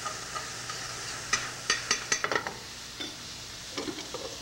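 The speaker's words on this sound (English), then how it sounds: "Okay, saute that. Let the onions cook. Green onions." Green onions sautéing in a pan with a little lime juice, a quiet background hiss broken by a cluster of sharp spatula clicks and taps near the middle.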